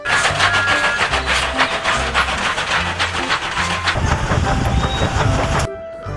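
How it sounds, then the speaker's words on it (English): Toy Thomas the Tank Engine train running with a loud, continuous mechanical whir and rhythmic clicking, close up, then cutting off abruptly near the end. "this is a Thomas train."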